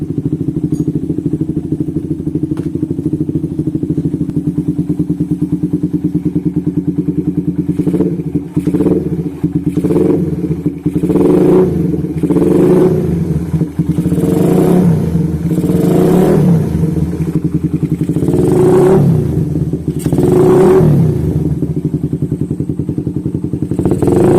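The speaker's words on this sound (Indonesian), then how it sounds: "Bunyi mesin sangat halus" A tuned Suzuki Satria FU 155cc motorcycle engine idles steadily up close, then revs repeatedly in short bursts, each throttle blip rising and dropping back to the idle rumble.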